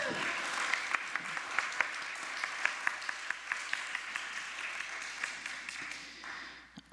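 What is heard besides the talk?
applause for the newest mom at the church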